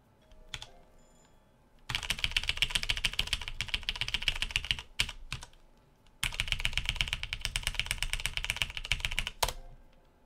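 Computer keyboard arrow keys and the S key pressed rapidly while playing the restaurant game Cook, Serve, Delicious!, two dense bursts of close, loud clicking separated by brief pauses.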